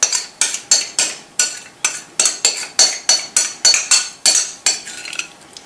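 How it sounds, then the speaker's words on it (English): Crab dip mixture scooped into a casserole dish, a steady run of about fifteen close, even clinks and scrapes of utensil against dish, loud and alone. "then you just take it all, put it into the casserole, just like that"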